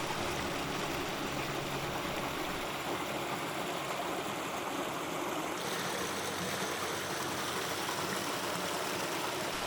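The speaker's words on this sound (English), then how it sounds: "a perfect place to pause and take in the sound of rushing water" A rocky brook rushes steadily beside a stony bank on a forest preserve spur trail, a broad continuous wash of flowing water close by, with no voices.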